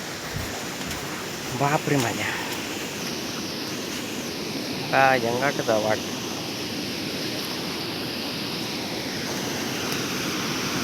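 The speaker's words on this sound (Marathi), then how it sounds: "चल इकडे पाणी वाजता पण काय धबधबो दिसत नाही." Steady, broadband rush of a stream flowing near Ghonsari waterfall in Kankavli, Sindhudurg, filling the whole stretch at an even level while someone speaks briefly twice over it.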